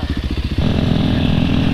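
A dual sport motorcycle engine runs while riding, close and loud, chugging in quick pulses before rising into a steady, throaty revving drone.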